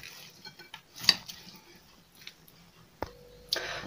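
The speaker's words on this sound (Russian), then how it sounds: "В общем, все хорошо перемешиваем." Cabbage casserole ingredients being mixed in a bowl: sparse, quiet scraping, soft squishing and a few sharp clinks of a utensil against the bowl, with near-silent gaps between.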